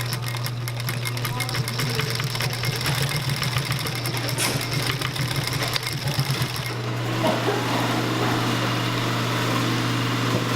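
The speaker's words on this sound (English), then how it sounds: "again you're stitching within the confines of your 1 inch width" Sewing machine runs steadily, stitching nylon webbing for a dog collar, with a fast, even mechanical chatter and a constant hum, close up, then slows and changes tone near the end as a voice talks over it.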